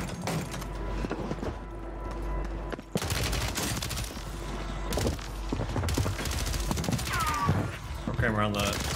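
Bursts of gunfire in Warzone on Rebirth Island, sharp shots and rapid volleys across the clip over game ambience, with a voice speaking partway through.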